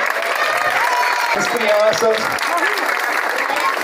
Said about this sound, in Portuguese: Uma de palmas.